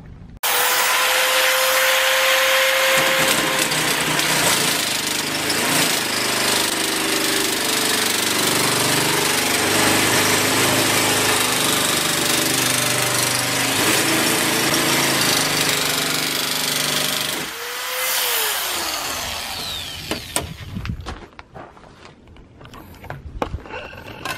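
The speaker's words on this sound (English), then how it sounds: "it's fairly quick with the nibbler" A power nibbler cuts sheet metal for a firepit ashtray, making a loud, continuous, harsh rattling buzz for about eighteen seconds. It then winds down, and a few scattered clanks and handling knocks follow.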